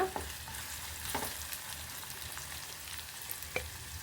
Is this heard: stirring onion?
yes